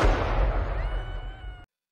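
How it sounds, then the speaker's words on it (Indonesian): A sharp burst like a gunshot cracks at the start and rumbles away into a reverberant tail before cutting off abruptly. "suara letusan tembakan terdengar"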